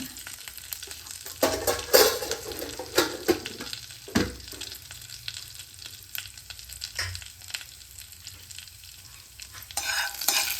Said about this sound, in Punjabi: ਜੀਰਾ ਮੜਾ ਜਿਹਾ ਭੁੱਜ ਗਿਆ ਆਪਣਾ